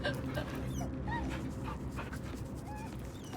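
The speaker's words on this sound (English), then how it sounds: "I'm gonna pet that dog." A dog whimpering and yipping in the fantasy video game Baldur's Gate 3, soft whines and short yips over a constant dense layer of game ambience, moderately faint and without talk.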